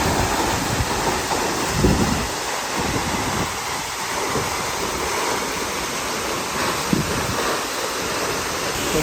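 Spray from a giant waterfall makes a steady, loud rushing roar that stays constant throughout, with no voices over it.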